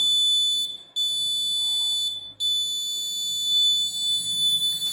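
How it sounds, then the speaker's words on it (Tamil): A laser security alarm emits a loud, piercing electronic tone, steady and high-pitched, cutting out briefly twice before resuming continuously, close and alone without talk. "நம்மளுக்கு உடனடியாக அலாரம் லேசர் செக்யூரிட்டி அலாரம் எச்சரிக்கை கொடுக்கும்"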